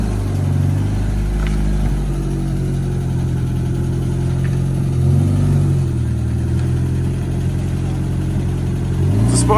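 A Renault 5-based SR rally car, not fully warmed up, pulls away down a runway with a loud, steady mid-pitched engine drone that rises in revs, recorded close by.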